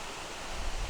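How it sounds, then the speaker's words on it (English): A small, pretty waterfall along a walking trail in Europe rushes as a steady, soft broadband hiss, with some low rumble and wind buffeting the microphone. "there's this cute little waterfall"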